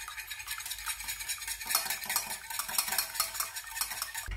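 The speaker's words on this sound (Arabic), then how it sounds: "نخلطوا هاد الملحه" Salt is worked into a dough mixture with egg, making a continuous wet stirring and scraping sound, close and moderately loud, with soft irregular swishes throughout.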